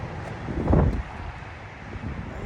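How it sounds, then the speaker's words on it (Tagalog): Strong wind buffets the microphone in a steady low roar, swelling briefly in a heavier gust, with no voices. "Ang lakas ng hangin."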